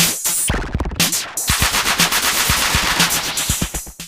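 Ohm Force OhmBoyz delay plugin produces rapid, stuttering bursts of crackling, gunfire-like repeats as its LFO waveforms modulate with internal feedback, dense and loud with no voices.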